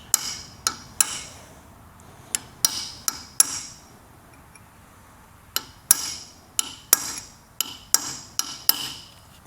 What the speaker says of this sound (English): Let your chisel do the work.